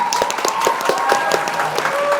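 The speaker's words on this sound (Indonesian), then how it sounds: "Oke, kasih tepuk tangan." Small studio audience on an Indonesian podcast clapping to welcome a guest, a short burst of fairly loud, close hand claps with a tonal hum running underneath.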